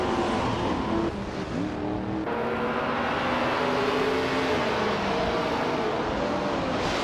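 Race cars roar around Brands Hatch Indy in a racing video game, among them a 1966 McLaren Elva Ford, with engine tones rising and shifting continuously and loudly throughout, with no talk.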